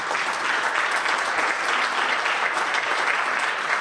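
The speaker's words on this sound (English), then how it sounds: "We'll give them a round of applause for your support of our group." An audience at a fall jazz concert applauds, a dense, steady wash of many hands clapping that fills the room, loud and continuous for a few seconds.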